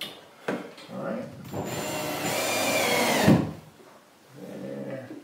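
A power driver runs number 4 half-inch screws diagonally into a 3/4 inch board while installing metal electrical boxes, giving one sustained whirring burst of about two seconds between brief stretches of talk.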